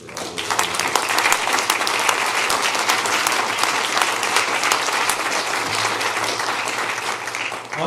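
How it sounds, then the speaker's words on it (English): Conference audience at a planetarium association business meeting breaks into sustained applause, many hands clapping in a dense, even roar that holds steady for several seconds and fades at the end. "So I would hope that you would give them a round of applause for all those things."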